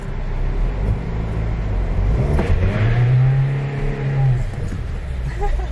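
A car engine revs hard during a burnout skid in front of police, rising and holding a loud, strained roar over rumbling background noise, with voices faintly present.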